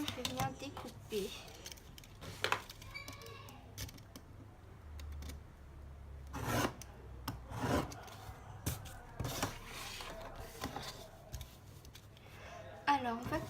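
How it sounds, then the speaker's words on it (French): Paper cut along ruled lines for album bookbinding, producing scattered close scissor snips and rubbing sounds, quiet and irregular, with some handling noise. "maintenant je vais venir découper"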